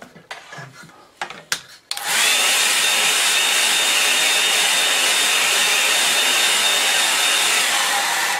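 A hair dryer blows onto a landscape painting of Dartmoor, starting abruptly after a few soft handling sounds and then running as a steady, loud, close whoosh with no talking.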